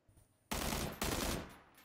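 Gunfire in the battle royale video game PUBG: two sharp, loud automatic bursts, the first starting abruptly and the second following about half a second later, each trailing off into a fading echo, with no voices.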